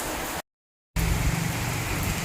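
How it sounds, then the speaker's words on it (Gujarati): Heavy rain in a sudden storm hisses steadily with a low rushing wind underneath, broken by a brief moment of silence near the start. "જો પવન એવો છે ને વરસાદ એવો છે, જોરદાર વરસાદ આવ્યો."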